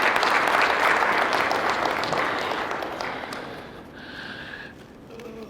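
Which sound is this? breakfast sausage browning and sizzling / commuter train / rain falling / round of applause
round of applause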